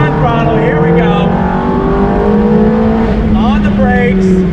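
A 2005 Ferrari F430 Spider accelerates hard, its engine note climbing in pitch, dropping briefly at an upshift around the three-second mark, then rising again, loud and close from inside the car.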